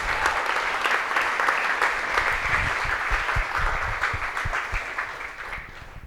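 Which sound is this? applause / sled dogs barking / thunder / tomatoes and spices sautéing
applause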